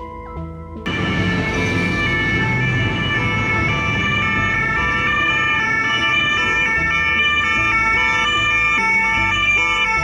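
An ambulance siren wails loudly and continuously, with dense traffic rumble beneath it and no talking.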